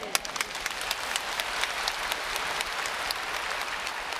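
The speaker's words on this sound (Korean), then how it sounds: "지금은 여러분 박수를 치지만" A church congregation applauds during a sermon, with a dense wash of many hands clapping together that stays steady and fairly loud from start to finish.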